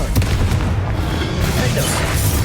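Confringo spell explosion in Hogwarts Legacy, a heavy booming burst with a rumbling, noisy body that fills the whole moment, loud and close.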